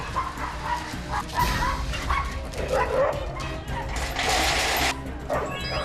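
Several dogs fighting with a neighbor's dogs bark, yip and snarl in an agitated scuffle, with overlapping bursts, whines and a sharp crash-like burst near the end.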